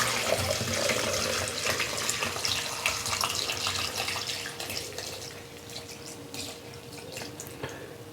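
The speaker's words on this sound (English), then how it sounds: "So all I'm going to do is use a wire strain and see if we can strain this out without making a mess." Mango moonshine liquid is poured and strained through a wire strainer, giving a continuous splashing, trickling flow that eases slightly over time, close by with no talking.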